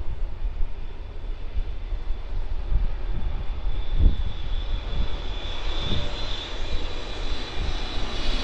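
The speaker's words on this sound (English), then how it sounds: "We've got another heavy arrival here on 16 right." A Boeing 777-300ER jet arriving on runway 16 right at Sydney Airport makes a loud, continuous engine roar with a rising whine, heard outdoors with no talking.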